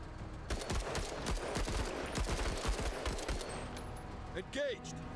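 Squad gunfire in the tactical video game Menace: a run of rapid, overlapping shots from several weapons, sustained at moderate loudness against a constant battle-ambience bed.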